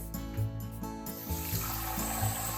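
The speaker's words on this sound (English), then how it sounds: "Let's rinse the rice." Tap water runs steadily into a bowl of rice being rinsed for a Christmas bento box, a close, continuous splashing rush with faint clinks underneath.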